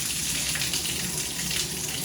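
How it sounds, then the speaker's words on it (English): Water from a newly installed handheld shower head running steadily, a dense even hiss of spray filling the bathroom without pause. "we'll turn the water on"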